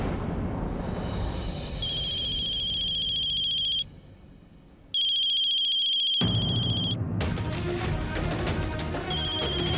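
A phone ringing unanswered in a TV drama scene, a repeating electronic ringtone with a brief gap and then a resumed ring, over dramatic background music and sound effects.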